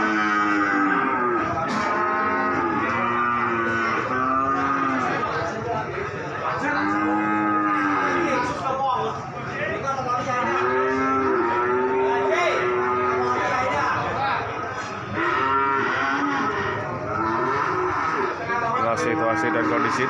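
Cattle at a busy cattle market in Pati, with repeated loud moos from several animals throughout, overlapping one another over steady crowd noise and people talking.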